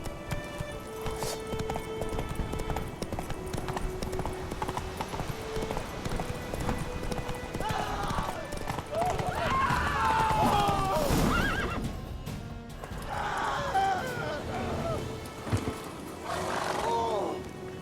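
Roach the horse from The Witcher 3 gallops with steady clip-clop hoofbeats and lets out loud, close whinnies and neighs over swelling music, with a voice talking at points.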